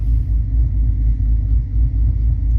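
Deep, lumpy idle of a cammed 6.4 Hemi V8 with a rhythmic, loping rumble, steady and close, no voices.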